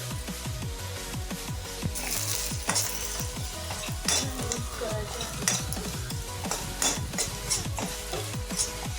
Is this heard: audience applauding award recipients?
no